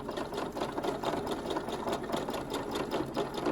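A sewing machine runs steadily while stitching a line with a backstitch, a fast, even mechanical chatter of needle strokes heard up close and uninterrupted, with no speech.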